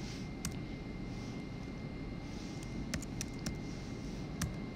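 Scattered taps on an iPad screen keyboard entering text into Google Sheets, a few isolated light clicks spaced irregularly over a steady low background hiss and faint hum.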